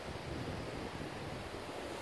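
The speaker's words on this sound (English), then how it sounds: "it's a rainy, windy day" Steady, dense outdoor noise of wind gusting with a constant wash like rain, broadband and unbroken, with no voices.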